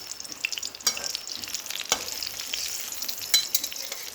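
Brinjal (eggplant) slices fry in oil over low heat, giving a steady close crackling sizzle dotted with sharp little pops, with no talking.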